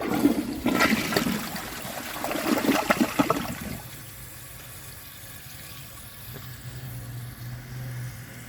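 A Project Source Pro toilet flushes with a loud, close rush of water for about three seconds, then drains off into a quieter trickle and tank refill hiss.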